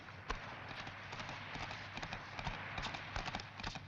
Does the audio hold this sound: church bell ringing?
no